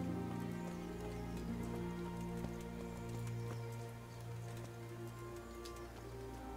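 Steady, moderate rain falls on surfaces in the medieval world of the video game Kingdom Come: Deliverance. The patter is even and continuous, softening slightly near the end, and no one speaks.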